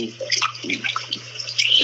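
Water runs steadily in the background, a soft continuous hiss like a filling tub or open tap, faint and broadband with small splashy variations throughout.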